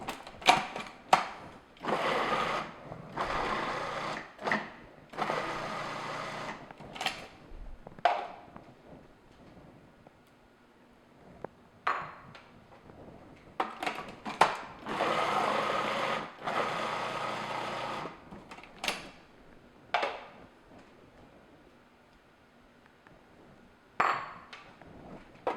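Electric mixer beating eggs one at a time into a cold ricotta cheesecake batter, whirring in repeated bursts of a few seconds each, separated by quieter gaps with faint clinks.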